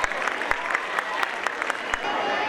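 Audience clapping at a school's annual gathering, with scattered individual claps standing out sharply over a steady wash of applause.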